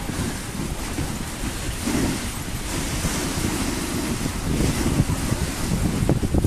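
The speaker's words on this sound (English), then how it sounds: "we get a nice breeze out in the middle here too that helps cool him down" Wind sweeping across the Mendenhall Glacier during a dog sledding run, a steady, loud blustery rush buffeting the microphone, rising slightly toward the end.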